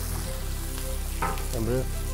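Four kilos of sliced onions sizzle and fry in a large pot, a steady soft crackle with a few stirring scrapes toward the end.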